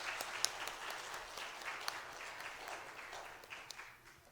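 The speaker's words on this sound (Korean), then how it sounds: "우리 한번 격려의 박수와 감사의 박수 한번" A church congregation of parents and members applauds steadily, a soft, distant wash of many hands clapping that fades slightly toward the end.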